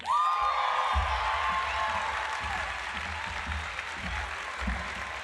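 Audience at the McGovern Medical School white coat ceremony applauding the class of 2028, a sustained rush of many clapping hands with low thuds recurring underneath, moderately quiet overall.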